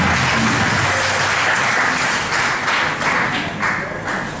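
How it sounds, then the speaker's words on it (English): A congregation at a church convention tabernacle claps hands together, a dense, sustained round of applause filling the hall at steady loudness for several seconds. "Come on, clap your hands."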